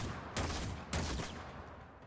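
Seer pistol fired twice in Warframe on PS4, two sharp heavy shots about half a second apart with a rumbling tail and steady background ambience.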